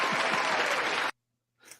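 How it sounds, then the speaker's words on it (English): An audience applauds loudly and steadily for about a second, the clapping stopping abruptly, followed after a short silence by a brief faint burst of sound. "So let's get some applause for our main man, George Dimitropoulos."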